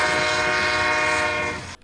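A loud, sustained horn blast, close and steady for nearly two seconds before cutting off abruptly, heard alone during a Tour Divide bike ride.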